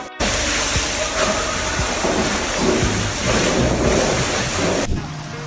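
Heavy rain pours down in a steady, loud wash over a mountain road, with a deep rumbling roar underneath, and it cuts off abruptly near the end.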